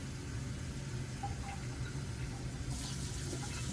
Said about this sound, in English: continue putting some water in the basin